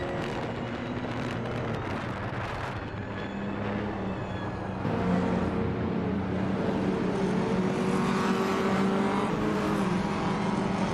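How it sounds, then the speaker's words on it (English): AI-driven race cars in a racing video game roar steadily with layered engine whine and revving, shifting pitch midway as cars pass and accelerate, loud and continuous with no talk. "Hope you're ready for some exciting AI car races today."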